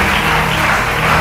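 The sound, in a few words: church congregation applauding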